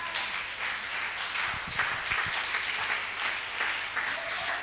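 A church congregation applauding during worship, steady dense clapping at moderate distance with a few louder nearby claps rising out of the crowd noise.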